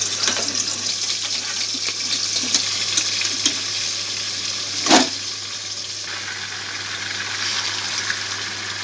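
Chicken pieces frying in white oil with bay leaf give a loud, continuous hiss of close sizzling, with a brief clatter near the middle as pieces go into the pan, and no voices.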